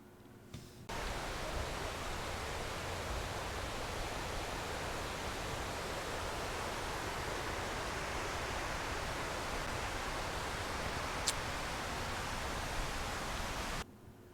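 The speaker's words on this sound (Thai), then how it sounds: "สียงน้ำตกเยอะมากนะครับ เสียงโหดังแต่ไกลนะครับผม" Kroeng Krawia waterfall in Sangkhla Buri, Kanchanaburi, a steady broadband roar of falling water heard from a distance, even and unbroken for most of the stretch, starting and stopping abruptly at the edges.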